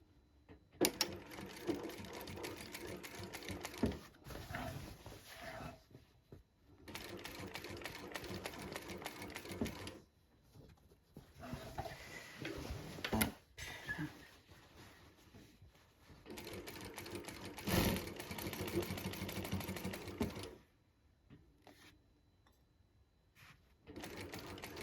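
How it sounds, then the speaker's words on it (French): A sewing machine stitches the pockets of a fabric wall organizer in several bursts of rapid mechanical clatter, separated by short quiet pauses, close and clear with no talking. "on coud les poches"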